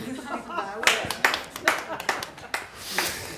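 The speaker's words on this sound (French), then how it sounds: "Oui, on peut bien sûr l'applaudir." A few people clap at a French round-table discussion on water, sparse and uneven sharp claps with light chuckles and murmured talk in between.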